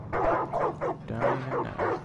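A dog in Far Cry 5 barks in short repeated yips and woofs, about six bursts in a steady rhythm, fairly close and clear with no talk over it.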